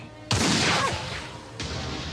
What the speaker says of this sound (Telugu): ఈ వాటర్ బాటిల్ని కాల్చు.